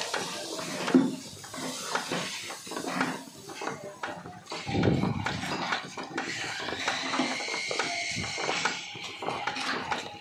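Besan barfi mixture with sugar and cardamom powder being stirred and roasted in a pan over medium heat, busy close scraping and clatter with soft frying hiss throughout, occasional faint voice underneath.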